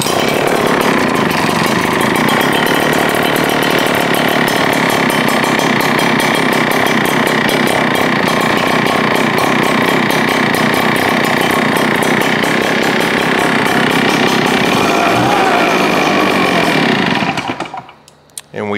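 An ECHO PB8010/9010 backpack leaf blower, with a new air filter fitted, runs loud and steady at full throttle with a constant roaring whine, then cuts off abruptly near the end.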